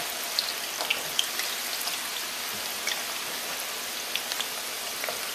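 Plantain slices for tostones frying in hot oil, a steady soft crackle and sizzle with scattered small pops, continuous and fairly close, no voices.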